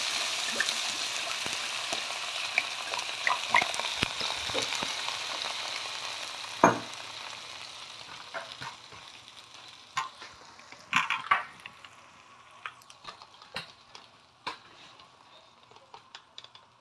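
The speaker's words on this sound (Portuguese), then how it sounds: "agora eu vou botar o vinho aqui e vou deixar cozinhar por 2 horas" Rooster pieces cooking in wine in a pot give a soft sizzle that fades, then scattered utensil clinks and stirring taps, nearby and fairly quiet.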